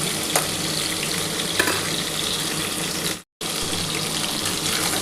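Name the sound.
potato and pointed gourd frying in pan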